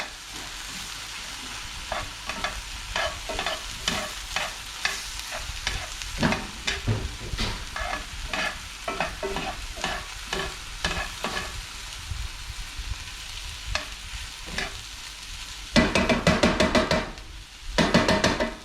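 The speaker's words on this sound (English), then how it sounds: "I'm going to stir that until it gets coated." Repeated scraping strokes of a utensil stirring long grain white rice in a pan, steady and close, over a faint sizzle, with a louder clatter near the end.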